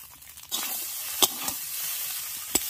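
Boiled chowmein noodles stir-fry in a hot pan with vegetables and egg, a sizzle swelling up after a quiet start, punctuated by a few sharp clanks of the spatula against the pan.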